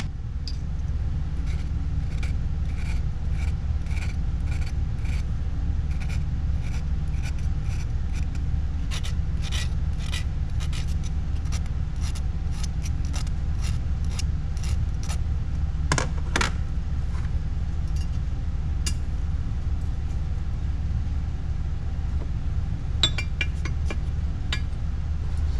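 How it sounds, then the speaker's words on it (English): Metal file rasping a piston ring end to open the ring gap during a Subaru short block assembly, heard as sparse light scraping strokes and small clinks over a steady low hum, picking up in the second half. "after filing for a second, hopefully you guys can tell that ring gap is much more close to where I want it to be"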